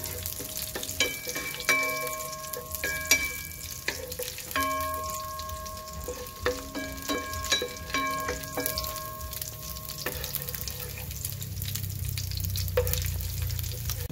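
Pen shell meat fries in a pan with a steady, moderately loud sizzle and occasional stirring clatter, while faint musical tones chime in the background.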